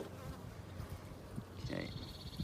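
Honeybees buzz inside an open, busy beehive during a spring inspection, a faint steady hum with individual bees droning close by at moments.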